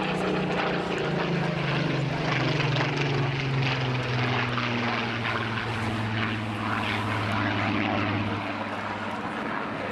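A Supermarine Spitfire PR.XIX from the Rolls-Royce heritage flight passes at an air festival, its piston engine and propeller making a loud, continuous droning roar whose pitch slowly drops as it flies by.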